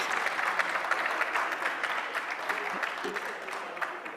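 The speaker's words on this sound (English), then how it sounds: "Clap your hands for your..." An audience claps at a business forum conference hall, a steady dense patter of many hands running throughout at even volume, fairly distant and without speech over it.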